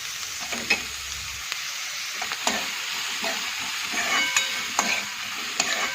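Chopped onions frying in a pan for gram flour bhurji, giving a continuous bright sizzle with scattered sharp scrapes of stirring, near and clear, with no voices.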